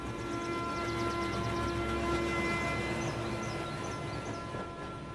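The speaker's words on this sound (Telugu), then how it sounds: "ట్రైన్ అర్ధ గంట వరకు ఇన్నే ఉంటది" A train stands idling at a station, giving a steady loud rumble with a sustained tonal hum, faint high chirps drifting in over the final seconds.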